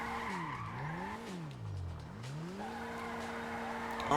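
Tires squeal and skid as a modded car drifts in the FiveM driving game, a continuous screech that swoops down and back up in pitch over a steady engine drone.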